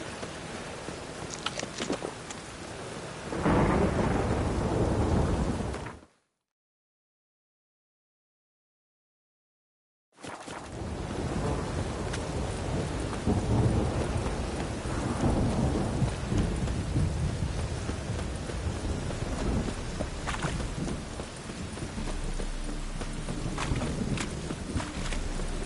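Rain and thunder in a video game, a steady hiss of rainfall with rumbling thunder, broken by a few seconds of complete silence before the downpour resumes.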